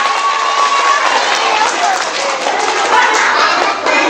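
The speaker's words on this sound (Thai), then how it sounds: "ขอเสียงปรบมือดังๆให้กับนักแสดงของเราด้วยนะคะ" Dense, loud applause and clapping from a school audience for student actors after a school play, sustained and close, with crowd murmur and faint voices beneath.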